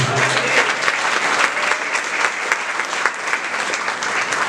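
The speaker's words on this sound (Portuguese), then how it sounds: "Aplauda o Senhor." Congregation applauding in a church during a sermon at a Presbyterian church anniversary service, a dense, steady wash of many hands clapping that fills the whole stretch at even loudness, with no voice over it.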